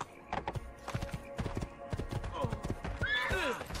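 Horse in the video game Assassin's Creed 2, with a run of clip-clop hoofbeats followed by a rising, wavering whinny near the end, over background game ambience.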